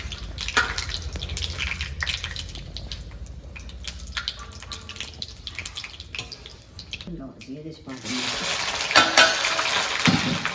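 Asafoetida and whole dried chillies hit hot oil in a pan for a fenugreek and spinach kadhi, giving a steady crackling sizzle that swells louder toward the end while a person talks over it.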